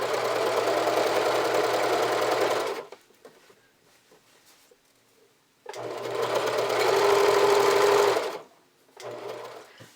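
Sewing machine stitching a camisole hem in two bursts, a loud, fast, steady mechanical whir lasting a few seconds each, separated by a quiet pause, then a short final burst.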